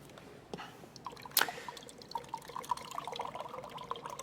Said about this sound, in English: I'm just going to get a little more water here.